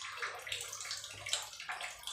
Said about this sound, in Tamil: இதில் சொத்தோடு தண்ணி ஊற்றுறேன்.